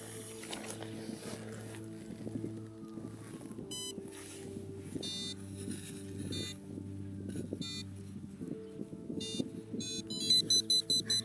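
Metal detector signal beeps during a search at Sobótka: short, repeated high electronic tones over a steady hum, with a denser burst of rapid beeps near the end.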